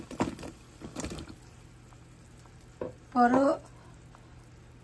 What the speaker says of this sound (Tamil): இப்போ ஒரு கருவா துண்டு போட்டு கொதிக்க விட்டுருக்குறேன்